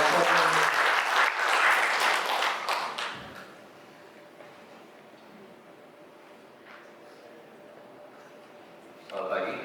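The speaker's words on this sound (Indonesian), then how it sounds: "Boleh dong tepuk tangan dong buat Pak Arja." Audience applause at a parish gathering at Santo Aloysius Gonzaga, Cijantung, loud and dense for about three seconds before cutting off to a quiet room hum, with a fresh burst of clapping rising near the end.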